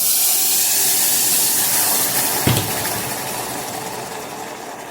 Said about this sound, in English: We're gonna put our blended pepper into the oil.